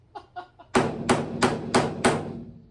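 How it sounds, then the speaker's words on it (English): Several quick light taps lead into five loud, evenly spaced hammer blows driving nails into a 1956 Chevrolet truck bed floor, each ringing briefly before the next strike. "So bang some nails in."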